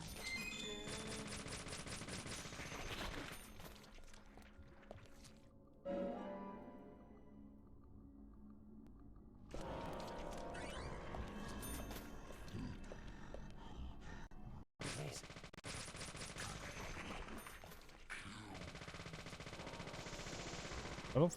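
Gunfire rattles in the video game Deadly Premonition, rapid repeated shots in dense bursts separated by quieter gaps, loud and close, set against shifting in-game background noise.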